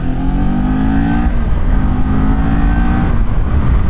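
A 2019 Kawasaki Ninja 400 motorcycle accelerates, its engine air intake giving a loud, close, honking drone with rising pitch sweeps as it revs, heard alone without talk.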